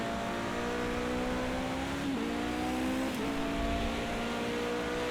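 Toyota TS050 Hybrid LMP1 prototype in Project CARS 2 at Spa-Francorchamps, a continuous loud engine drone with a pitch dip under late braking into a corner, then climbing again as it accelerates out, no voices.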